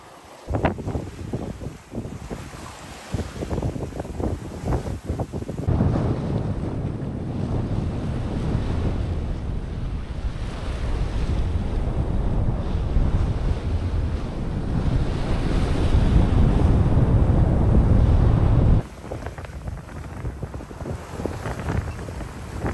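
Wind and waves at sea aboard a sailboat off Tenerife in a force 4 breeze, loud continuous rushing wind buffeting the microphone over surging water, easing briefly at both ends.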